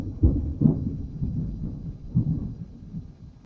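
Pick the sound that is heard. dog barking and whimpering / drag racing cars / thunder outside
thunder outside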